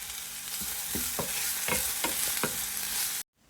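Onions and chillies fry in a pan for Andhra-style mutton curry, with a bright steady sizzle and a handful of quick scraping stirs, up close, cutting off abruptly into silence.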